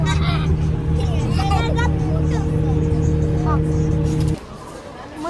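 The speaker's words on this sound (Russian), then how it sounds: "Мы сели в автобус" Riding inside a bus in Tashkent: a loud, steady engine drone with a tonal hum fills the cabin, background voices murmur throughout, and the engine noise drops away abruptly near the end.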